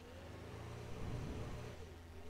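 A drifting car in the Brick Rigs video game revs its engine steadily at moderate loudness, a continuous mid-pitched drone with a slight swell near the middle and no talking over it.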